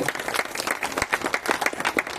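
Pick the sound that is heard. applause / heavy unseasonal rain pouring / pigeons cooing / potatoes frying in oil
applause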